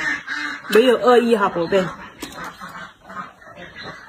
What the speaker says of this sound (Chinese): 哎呀，我家的鸭子又回来了